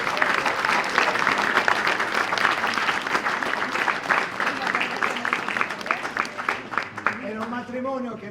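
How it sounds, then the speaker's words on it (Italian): Applause fills a theatre audience at an amateur short-theatre festival in Padua, dense steady clapping that thins out as a voice starts talking at the end. "quindi un applauso a Enrico"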